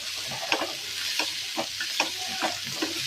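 Onions fry in a pan for egg masala, a close, bright sizzle broken by regular scraping strokes of a spatula stirring them about twice a second.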